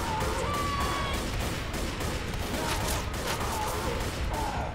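Continuous gunfire from a Left 4 Dead co-op session, dense and steady throughout with a chaotic, crashing wash, a voice talking faintly underneath.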